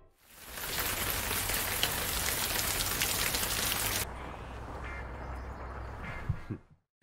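Heavy rain pours down, a dense hiss of drops pattering on surfaces that stays strong, then drops to a lighter, thinner patter about halfway through before fading out.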